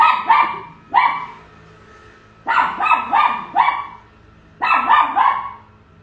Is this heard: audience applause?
no